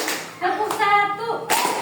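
Children in an Islamic kindergarten classroom clap in short, sharp bursts, a few separate claps spaced across about two seconds, with a voice chanting between them.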